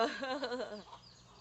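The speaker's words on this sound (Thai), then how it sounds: "ไก่มาเด้อ ไก่เลี้ยงง่ายไก่กุ๊กกุก" A pet chicken gives a short run of throaty clucks up close, trailing off into quiet after about a second.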